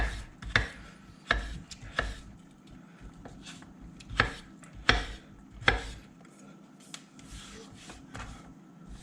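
A knife chops potatoes on a cutting board for potatoes O'Brien, giving sharp, irregular close thuds spaced about a second apart, with quiet scraping between strikes.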